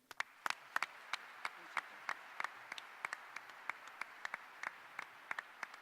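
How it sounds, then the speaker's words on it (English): A modest audience at NC State's introduction of basketball coach Will Wade gives scattered, sparse applause for Chancellor Dr. Randy Woodson, distinct individual claps over a quiet room, fairly faint and uneven. "please give a round of applause for our Chancellor"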